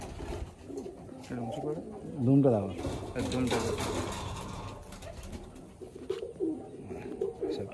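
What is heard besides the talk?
pigeons cooing in a loft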